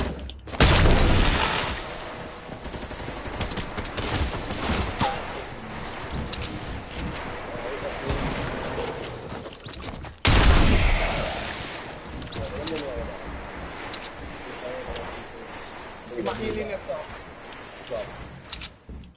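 Rapid bursts of gunfire from a video game crackle through a busy, noisy mix, with loud impacts near the start and again around the middle, while players talk over the action.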